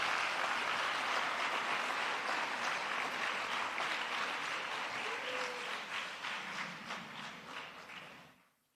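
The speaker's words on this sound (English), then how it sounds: "Can we please give a warm round of applause as he makes his way to the stage?" Audience applause fills a school prize-giving hall as a speaker walks to the stage: a dense, steady wash of many hands that holds for several seconds, then thins and fades out.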